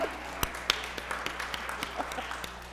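Audience at a women's forum applauding, with quick scattered claps rising from a soft background din, moderately distant and fairly light throughout.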